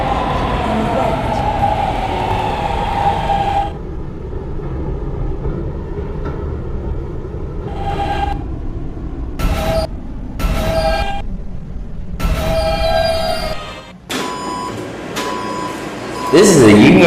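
A K line subway train runs along its route, a rumbling ride heard from inside, broken by gaps of near quiet as a recorded announcer's voice speaks over tonal chimes.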